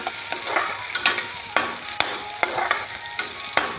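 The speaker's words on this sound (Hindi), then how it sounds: "प्याज को हम अच्छी तरह चला लेंगे" Onions stirred in a hot pan with cumin seeds already browned, a steady frying hiss broken by repeated scraping strokes of the spoon, close and fairly loud, with no talking.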